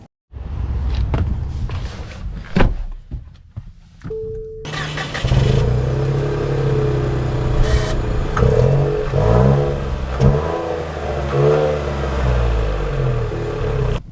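A 2025 Nissan Rogue Rock Creek crossover starting off: a few clicks and knocks, then the engine hums steadily and rises as the car pulls away and accelerates, loud and close.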